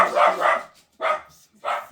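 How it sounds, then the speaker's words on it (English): Several dogs barking in short bursts indoors at home, three loud close barks separated by brief pauses. "forgive my dogs"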